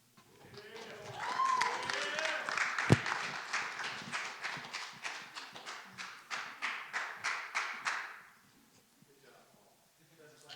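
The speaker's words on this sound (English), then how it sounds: "thanks for the clapping" An audience at a 2024 church testimony event applauds for about eight seconds, a dense even patter of many hands that swells and then fades out, ending in near quiet.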